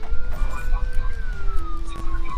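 Police siren in the Roblox game Runaways, wailing steadily with a slowly falling pitch, loud and close over low rumbling game noise.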